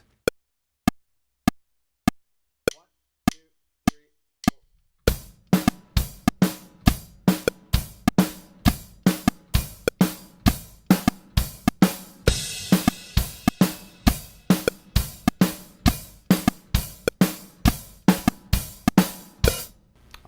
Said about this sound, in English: Listen to the metronome